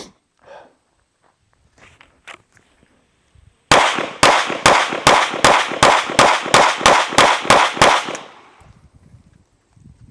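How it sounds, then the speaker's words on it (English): An HK CC9 pistol is fired rapidly through a full magazine, about fourteen loud, sharp gunshots in an even, fast rhythm. Quiet handling noises come before them and a short rattle follows. "I'm gonna do a little mag dump here so you can see the gun in action"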